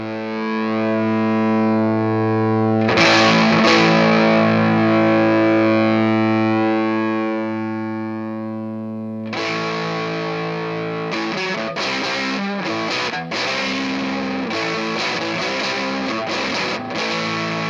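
An electric guitar on the neck pickup runs through a BOSS DS-1 distortion pedal with the EDNP Flex Pro-X mod. A loud, fuzzy chord rings out and slowly decays, then choppy distorted riffing follows, with no voices.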